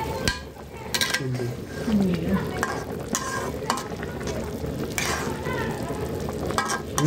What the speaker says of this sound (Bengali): এখন এটা করতে থাকবে, আস্তে আস্তে সিদ্ধ হতে থাকবে, কষতে থাকবে